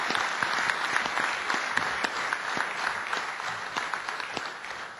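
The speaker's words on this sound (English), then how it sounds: "we must give a great applause and claps to those unknown and silent heroes" Seminar audience applauding in a hall, dense sustained clapping from many hands at moderate distance, steady throughout with slight fading at the end.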